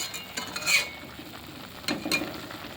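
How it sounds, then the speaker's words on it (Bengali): Susuni greens are stirred in a pan with soft scraping strokes and a couple of light metallic clinks over a quiet sizzle. "একটু নাড়িয়ে চাড়িয়ে নিই"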